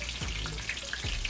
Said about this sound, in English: you're just looking to give it get all the edges nice and brown, and give it a nice crust